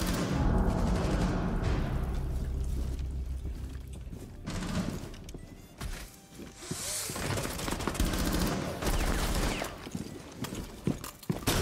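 Gunfire in the tactical shooter Rainbow Six Siege, loud bursts and shots scattered across a dense, busy in-game soundscape with no talk.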